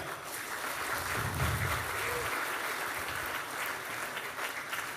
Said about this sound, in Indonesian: Sekali lagi kami mohon aplaus yang meriah